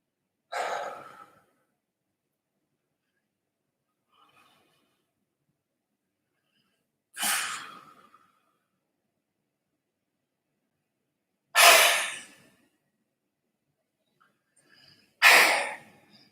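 Four sharp, forceful exhalations during a Tit Sin Kuen breathing exercise, each a short breathy burst followed by seconds of silence, spaced irregularly and heard close up.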